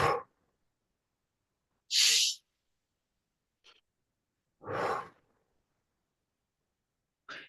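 During a breathwork training session, a few slow, audible breaths come through close to the mic, spaced about two seconds apart in a steady rhythm with silence between them and no talking.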